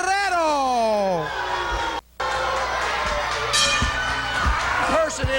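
A wrestling crowd cheers and shouts for Chavo Guerrero, loud and continuous with whoops and a voice sliding in pitch, a brief dropout midway, then sustained crowd noise.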